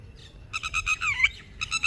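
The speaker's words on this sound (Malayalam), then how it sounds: "കുഞ്ഞിക്കിളീൻ്റെ സൗണ്ട് കേൾക്കുന്നുണ്ട് തള്ളക്കിളീൻ്റെ സൗണ്ട് കേൾക്കുന്നുണ്ട്" Bright, high bird calls repeat in quick bursts, thin chirps from a chick answered by a stronger call from its parent, close by and clear over a faint low background.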